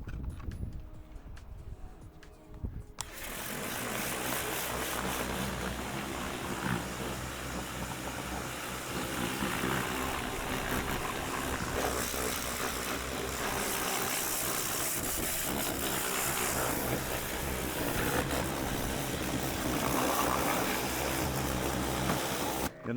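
A pressure washer blasts water across the engine bay of a classic Mustang, a loud, steady broadband hiss that kicks in after about three seconds of quieter mechanical hum and then runs continuously without pause.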